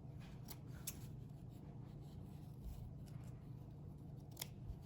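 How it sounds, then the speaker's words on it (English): Scissors snip excess thread from a sewn cloth face covering: several quiet, crisp cuts over a soft background hiss. "you can cut the excess thread on the other side."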